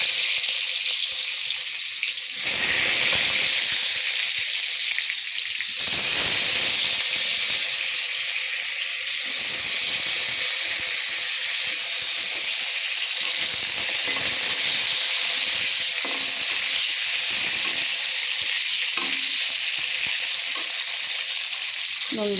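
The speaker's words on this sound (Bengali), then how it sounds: "এবার আমি আলুটা দিয়ে দিচ্ছি।" Potatoes frying in hot oil with bay leaf and cumin in a Bengali home kitchen, a loud steady sizzle and hiss throughout with brief bursts of spattering, close up and without talk.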